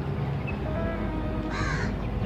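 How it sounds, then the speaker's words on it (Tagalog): A single crow caws once against a steady background hum of outdoor noise at a fish market, brief and moderately distant. "Uwak. Uwak!"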